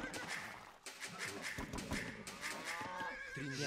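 Cow mooing in an Age of Empires match, a game animal sound with several drawn-out lowing calls over busy game effects and music, fairly loud and continuous throughout.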